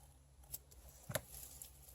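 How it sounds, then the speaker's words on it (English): Scissors snipping through crochet yarn, a couple of quick, faint close-up snips in a quiet room with light handling noise around them. "use your scissors to cut this"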